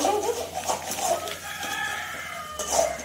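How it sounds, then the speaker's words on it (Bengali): A rooster crows at dawn around four in the morning, its call clear and fairly near over a low steady hum, with repeated rising cries across the short stretch. "গাইস এখন ভোর 4টা মোরগ ডাকছে"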